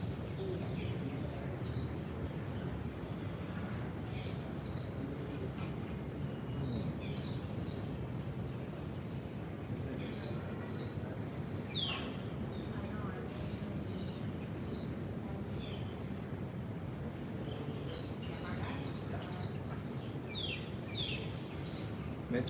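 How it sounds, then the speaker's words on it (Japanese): Birds chirp and sing outdoors in Havana, Cuba, their short high calls repeating in clusters over a dense, constant wash of ambient background noise, fairly distant and moderately loud. "めっちゃ鳥が鳴いてますが"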